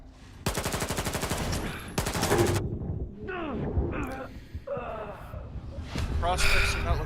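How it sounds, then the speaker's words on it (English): SMG bursts in the shooter game Stalker 2: two rapid, loud strings of automatic fire, each lasting about a second, followed by shorter bursts and scattered shots amid other combat noise. "Maybe a burst from my SMG?"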